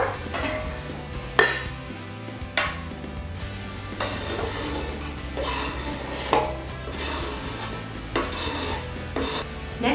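A utensil scrapes and stirs sausage, kale and tomato in a pot, giving repeated rasping strokes with sharp clanks against the pot every second or two, close up and with no voices.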